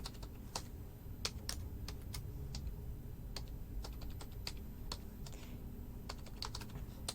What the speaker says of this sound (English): I'm going to type something in the chat